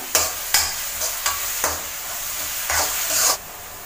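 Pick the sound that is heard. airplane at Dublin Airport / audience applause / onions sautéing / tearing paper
onions sautéing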